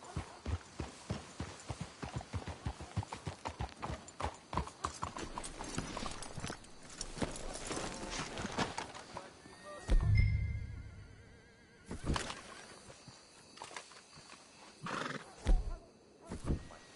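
Horses in the video game Red Dead Redemption 2 clip-clop along in a steady rapid rhythm of hoofbeats, then slow and stop, with a whinny and a few snorts or stamps near the end.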